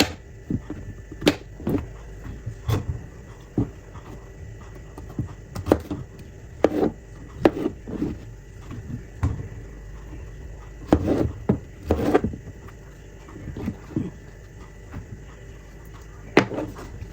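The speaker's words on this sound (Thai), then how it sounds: "จะหั่นเสร็จแล้วเนาะ" A knife taps sharply on a cutting board, slicing wild mushrooms in irregular bursts of quick, close chops separated by short pauses, set against a quiet background.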